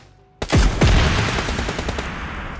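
A VSS rifle in PUBG Mobile Lite fires two loud, close, suppressed-sounding shots about half a second apart, followed by a sustained rattling tail of rapid fire and echo.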